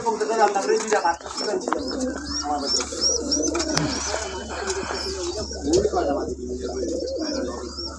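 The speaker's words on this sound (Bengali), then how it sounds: "খুব সুন্দর সুন্দর পেয়ার দিছে কবুতরগুলা দেখার মতো এক একটা কবুতর" Pigeons in a loft coo softly and repeatedly, with occasional wing flutters and chirps nearby, while a person talks over the birds at times.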